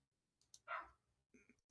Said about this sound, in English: I can hear my dog barking outside